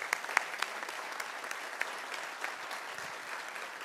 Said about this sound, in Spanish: regalémosles un aplauso a nuestros panelistas